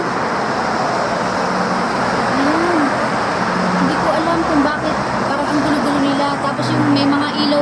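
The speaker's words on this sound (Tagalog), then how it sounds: "Ang dami pong sasakyan, no?" Busy city street at night with many cars, a steady traffic roar and passing vehicles, with a few faint tonal horn-like sounds and occasional voices in the background.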